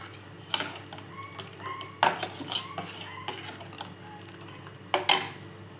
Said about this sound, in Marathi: आता आपण त्याला एकत्र करून घेऊया मस्तपैकी ढवळून